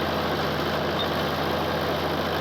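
A tractor engine runs continuously, a steady dense rumble with a broad even roar and no pauses, close and loud throughout.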